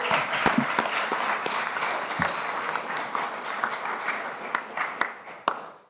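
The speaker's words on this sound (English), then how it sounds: "Man, that's worth applauding for." Sustained applause fills a city council chamber in Tuscaloosa as athletes are honored, a dense steady wash of clapping from a seated crowd with a few louder individual claps standing out near the end before it fades.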